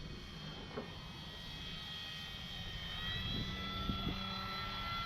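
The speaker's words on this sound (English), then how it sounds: "I need to keep the plane in closer because I am filming with a GoPro." An Arrows RC Bigfoot model airplane drones steadily in flight, its motor a thin continuous whine that swells slightly toward the end over wind noise, heard from a hat-mounted camera.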